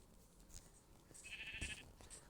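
Sheep in Minecraft bleat a few times in short, thin calls, fairly quiet against a faint background; one bleat stands out slightly louder than the rest.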